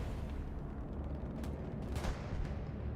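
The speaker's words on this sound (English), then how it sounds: "Here comes the counter bombing run." Bombing run explosions in Hell Let Loose on the Hurtgen Forest map, a steady heavy rumble of distant blasts with a few sharper cracks landing near the end, with no voices.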